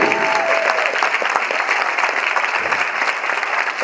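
Audience at a high school academic achievement celebration giving teachers a big round of applause, steady dense clapping throughout, loud and close with a faint crowd murmur underneath.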